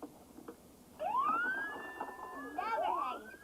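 A small electronic siren whoops in rising wails, fairly faint and thin, like a toy, with a few soft background noises.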